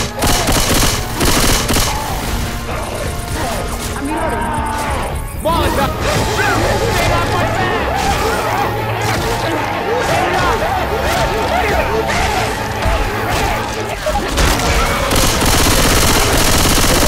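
Loud, sustained gunfire in Left 4 Dead 2 as players shoot at the Tank: rapid, continuous bursts fill the whole stretch, mixed with crashes and shouted voices.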